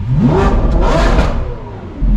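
A street-racing car's engine revs hard and loud close by, holding a high, roaring pitch before easing off briefly and surging again at the end.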